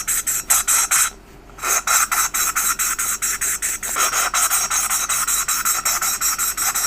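Rhythmic, close scratchy rasping from lapping a motorcycle valve against its seat with grinding compound, quick regular back-and-forth strokes with a brief pause before resuming, gritty and loud with no voices.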